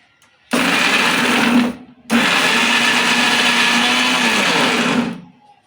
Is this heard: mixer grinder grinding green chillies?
yes